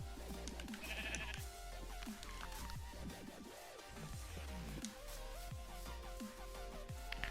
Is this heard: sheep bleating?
yes